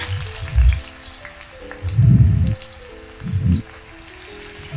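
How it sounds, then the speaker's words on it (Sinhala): Sliced onions frying in oil in a pan, a soft crackling sizzle that swells in a few louder bursts, close and alone without any voices. "තෙල් ටිකක් දාලා තාච්චියකට ලුණු ටික බෙද ගන්න ඕන."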